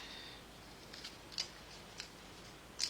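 Scissors make a few sharp, faint snips at irregular intervals in a quiet room, with no talking.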